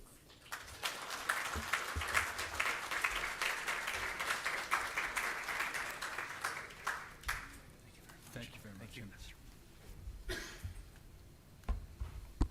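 An audience at an ASMEA event claps to welcome the Ambassador of the Kingdom of Bahrain, a dense wash of applause that swells for several seconds then thins out into scattered claps and a cough.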